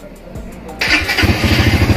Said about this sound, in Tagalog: So testing muna natin kung nag-i-start yung motor natin